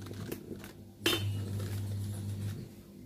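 A spoon clinks against dishes while instant noodles are prepared, one sharp clink standing out over a steady low hum and faint scattered taps.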